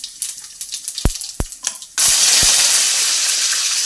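Cumin, fennel and fenugreek seeds hit hot oil in a wok for a mushroom curry. A few sharp clicks come first, then a sudden steady close sizzle takes over and holds to the end.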